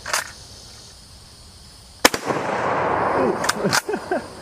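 A single sharp, loud rifle shot of 7.62x54 rimmed ammunition fired at a steel target outdoors, preceded by a faint distant crack, then two more quick reports and handling noise.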